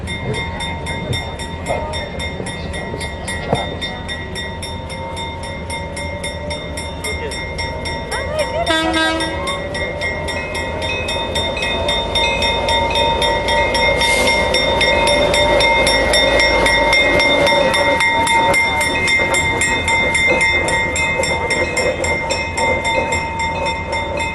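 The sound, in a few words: U.S. Army 8537 diesel locomotive pulling up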